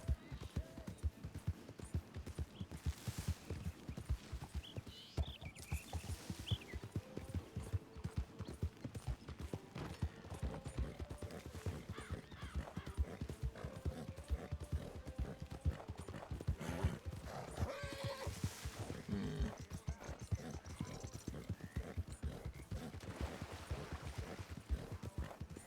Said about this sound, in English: did you hear all those horses?